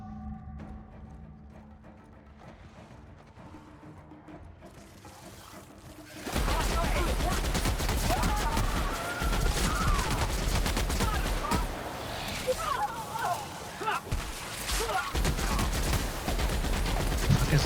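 Shootout gunfire in The Outer Worlds video game: after a quiet opening, dense loud volleys of rapid gunshots and bursts start abruptly and continue steadily, with game voices calling out over the fighting.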